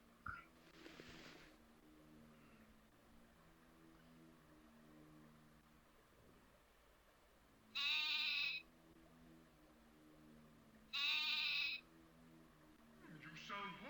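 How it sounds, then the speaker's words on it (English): Sheep in the MS-DOS game Wishbone and the Amazing Odyssey give two loud, clear bleats a few seconds apart over a steady low game music bed, with a brief voice near the start. "You sound hungry, my sheep."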